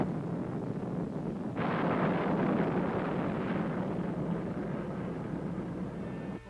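A Titan 3C booster fires in a launch test: a loud, broad roar bursts in abruptly and holds steady for several seconds as a continuous thundering rumble.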